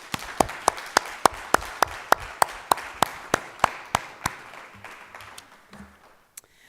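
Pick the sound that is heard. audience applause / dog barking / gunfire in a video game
audience applause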